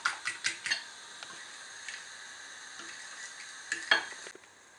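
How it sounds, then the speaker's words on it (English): Egg being beaten with black pepper and corn flour in a bowl, a series of quick clinking whisk taps at the start, a quieter stirring stretch, then another burst of sharp strikes near the end. "Beat the egg. Mix well so that no lumps remain."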